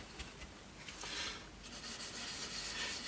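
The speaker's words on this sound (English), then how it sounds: "So I'm just going to sand gently." Gentle hand sanding of a Tanglewood Sundance TW4 NSB three-quarter semi-acoustic guitar body with fine sandpaper, a soft steady rasping rub that grows a little louder and continues alone without talk.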